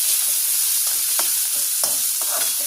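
Vegetables sizzling in hot oil in a wok, an even loud frying hiss with several scraping stirs spaced through it, close up and without speech.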